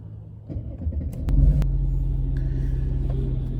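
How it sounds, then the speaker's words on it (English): A car engine cranks with a few clicks, catches, and settles into a steady low idling rumble close by. "Let's start the engine"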